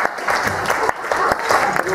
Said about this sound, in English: give her a round of applause for recaning that furniture!